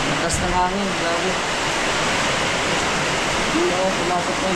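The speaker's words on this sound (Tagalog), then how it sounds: "Lakas ng hangin, grabe." Strong typhoon wind and rain lash a small hut, a dense, steady roar like a waterfall filling the whole space, with voices talking and exclaiming over it.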